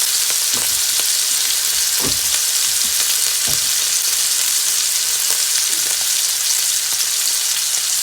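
Two venison steaks fry loudly in a pan with a dense, constant sizzle. A few low thuds and scrapes of a utensil stand out against it.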